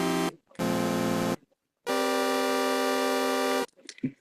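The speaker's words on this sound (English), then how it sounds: "So the chord progression sounds like this." A xenharmonic chord progression in 5D, three sustained bright synth-like chords separated by short gaps, the last held longest before stopping.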